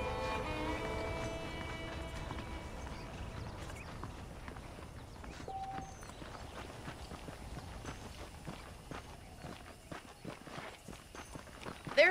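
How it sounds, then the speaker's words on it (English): Horse hooves clip-clop steadily in Red Dead Redemption, a continuous walking rhythm of saddled horses close by, with an ambient backdrop and no talk. "The horses are saddled up over here."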